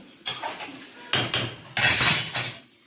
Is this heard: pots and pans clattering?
yes